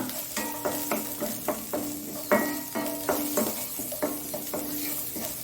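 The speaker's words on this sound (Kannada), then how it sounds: "ಇದಕ್ಕೆ ಒಂದು ಬೆಳ್ಳುಳ್ಳಿ, ಒಂದು ಸಣ್ಣ ತುಂಡಿನಷ್ಟು ಶುಂಠಿ ಹಾಕಿ ಸ್ವಲ್ಪ ಹುರಿದುಕೊಳ್ಳೋಣ" Onion, garlic and ginger frying in a pan: a soft sizzle under repeated metallic clinks and scrapes of a spatula against the pan, irregular and close, with no speech.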